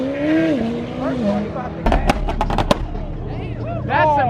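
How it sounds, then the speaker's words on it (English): A Ford Mustang's two-step launch control crackles with a quick burst of sharp pops amid revving engine noise at a car meet, with people talking nearby before and after the bangs. "That's a Mustang two-step."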